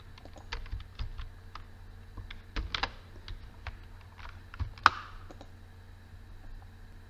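Typing on a computer keyboard while filling in a web form: irregular bursts of quick key clicks, close and moderately soft, with one sharper louder clack near the end and then a quiet stretch.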